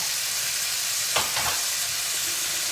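Shrimp dropped into a hot pan for chicken and shrimp Alfredo start frying with a steady close sizzle, with a brief burst of louder crackling and stirring as they land.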